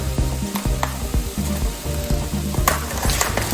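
Ground turkey hits a hot pan with sautéed vegetables, bursting into a loud, steady sizzle and crackle, with a few clinks of a utensil on the pan as it lands.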